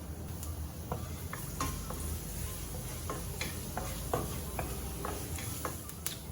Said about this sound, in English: the first thing that I want to do is to fry a bit of shredded ginger